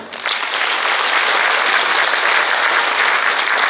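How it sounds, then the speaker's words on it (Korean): Loud, dense applause from a large crowd at a national Liberation Day ceremony honors Olympic athletes, swelling in quickly and holding as a steady roar of many hands. "올림픽 참가한 모든 선수들에게 찬사의 큰 박수를 보내주십시오."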